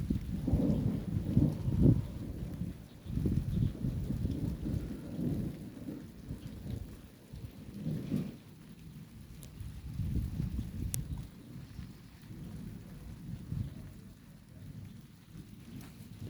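A strong summer thunderstorm at Montady, France, in June 2023: rumbling thunder rolls repeatedly under steady rain falling on surfaces, loud and continuous throughout.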